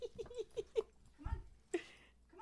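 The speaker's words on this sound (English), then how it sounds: "let's get this dog out of here." A dog whimpers and whines in a quick series of short, high yelps close by, with a brief pause and one more whimper near the end over a faint low rumble.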